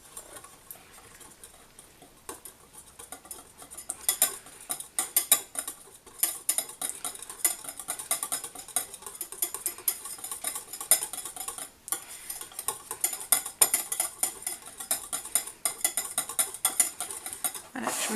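Cream being stirred in a bowl for a layered Oreo dessert, with a steady run of light clinking and scraping from a utensil against the bowl, close up and fairly quiet.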